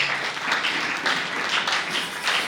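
A congregation at a Christian church service applauds together, a steady, dense wash of clapping that holds evenly for a couple of seconds without voices.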